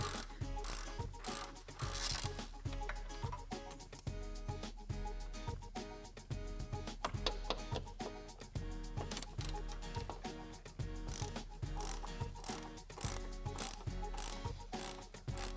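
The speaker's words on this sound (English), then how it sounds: "Remove the 3 mounting bolts that secure the air strut's upper mount." Mechanic removing the air strut upper mount bolts on a Porsche Cayenne, VW Touareg or Audi Q7, rapid close ratchet clicking with metallic ticks going on steadily throughout.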